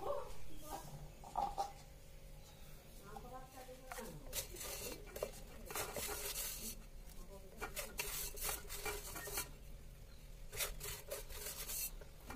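A spoon scrapes and rubs as sugar is stirred into a rice flour batter for a traditional Assamese pitha, making repeated gritty strokes against the bowl, with a faint voice now and then.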